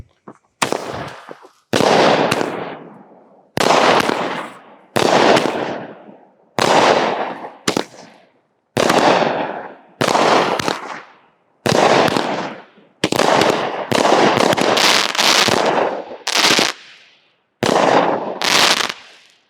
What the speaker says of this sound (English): This is Hellion by Dominator Fireworks